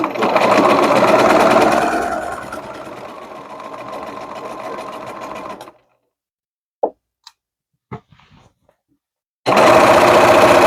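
A sewing machine stitches a pillowcase in a loud, steady run that slows and stops as it nears a corner, followed by a few soft clicks and handling sounds during a quiet pause, then a fresh burst of stitching.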